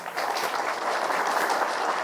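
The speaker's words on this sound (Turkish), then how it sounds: "alkışlıyorum" Steady applause from a crowd at the opening of a new Quran school in Kayseri, Turkey, a dense even patter of many hands clapping continuously throughout, moderately loud with no talking.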